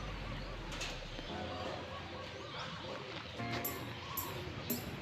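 Racing pigeons cooing on a rooftop, soft low coos under a steady outdoor hiss, with a few brief wing-flap bursts near the end.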